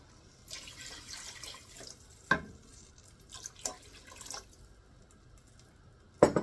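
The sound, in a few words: veggie broth being poured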